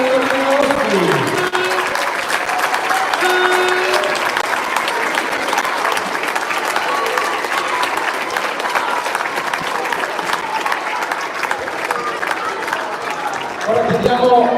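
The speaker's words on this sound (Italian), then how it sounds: "un grande applauso per tutti gli atleti che hanno partecipato a questa bellissima edizione del torneo Osti" A large crowd in a sports hall applauds the athletes at the final of a youth tournament, the XXIII Memorial Marcello Osti, with steady, loud clapping that continues unbroken throughout, with faint voices underneath.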